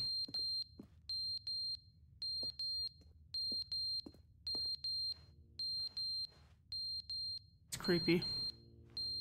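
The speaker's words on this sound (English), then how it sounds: "I got a smoke alarm going off now." Smoke alarm in The Stanley Parable video game, sounding as repeated high electronic beeps in short clustered bursts with a steady rhythm, joined near the end by a brief louder burst of other game sound.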